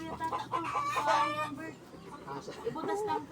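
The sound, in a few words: bird calling nearby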